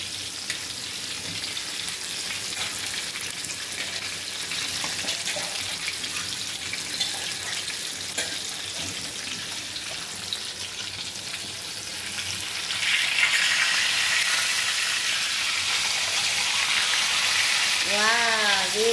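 Fish frying in plenty of oil in an iron pan, a steady close sizzle that runs the whole time and grows louder and fuller near the end, with a short tonal whine at the very end.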